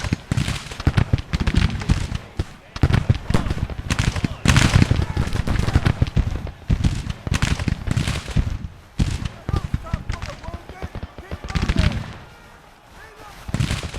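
Musket volleys in a Civil War battle video game, with dense, repeated crackling gunfire bursts across most of the stretch, a brief lull near the end, and voices shouting beneath.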